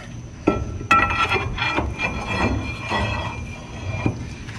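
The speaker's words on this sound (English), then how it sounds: "Axle shaft going back in." A Dana 60 axle shaft slides back into its housing on a Dodge during a disc brake conversion, giving close, sharp metallic clanks, a screechy scrape and scattered knocks over a dull shop background.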